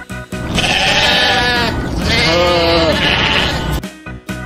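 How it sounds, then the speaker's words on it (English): A sheep bleats loudly and close, giving several wavering, drawn-out cries in quick succession with short pauses between them and no talking. "Sheep."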